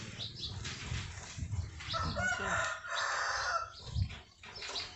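Chickens and a rooster cluck and crow close by, with repeated calls and a stretch of wing flapping, loud and busy over a steady farmyard background with no talk.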